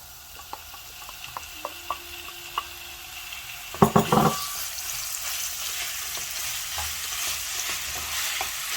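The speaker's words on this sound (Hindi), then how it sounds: "तो चिकन को भी इसके अंदर डाल के हल्का सा फ्राई कर लेंगे, कलर चेंज करेंगे इसका।" Chicken breast pieces, about 200 grams, fry in a pan while being stirred, a steady low sizzle with scattered scraping taps and a brief louder burst of clattering stirring midway, close and moderately loud.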